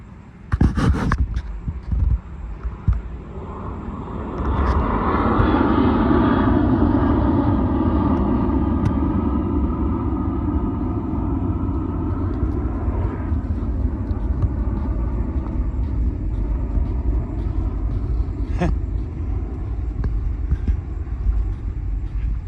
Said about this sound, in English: Here comes the plane, boss.